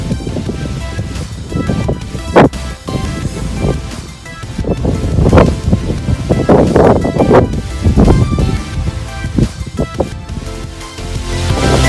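Cold, gusty wind buffets the microphone on the icy winter summit of Waterrock Knob, a loud, continuous low roar that swells and eases with sharp gust bursts and no clear voices.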